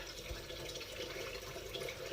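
Cold tap water runs steadily onto hot hard-boiled eggs in a pot, a continuous close rushing flow with no talk.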